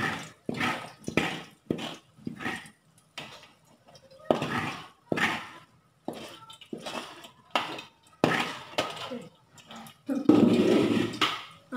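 Metal woks clank and scrape in a home kitchen while a sweet peanut porridge is poured from one wok into another, a series of close, irregular knocks and clinks with liquid sloshing near the end.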